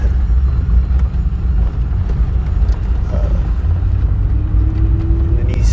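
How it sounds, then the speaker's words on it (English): A shredder truck running nearby beside a parked vehicle gives off a loud, steady low mechanical rumble and drone with occasional faint clanks on top. "I think this guy just started shredding in the shredder truck next to me."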